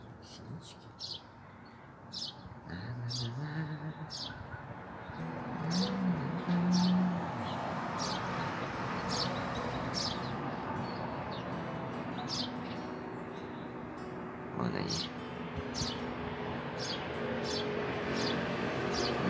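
Repeated short chirps of tits scattered across a noisy outdoor morning background, with a voice talking faintly at times.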